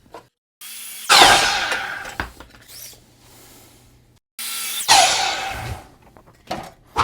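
A saw cuts wood at a miter box at 15-degree angles in two loud, close bursts of rasping cutting, each fading out, with quiet pauses and no voices.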